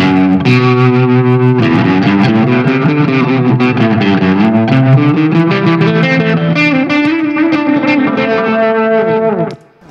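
A vintage electric guitar played through heavy distortion rings out loud and sustained, with continuous chords and shifting notes filling the passage before cutting off at the end; no talking.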